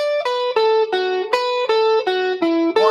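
Quick, evenly picked electric guitar notes in a steady stream, the melody looping in repeating groups of four, clear and close with light distortion.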